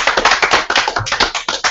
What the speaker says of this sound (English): Let's give him a hall clap.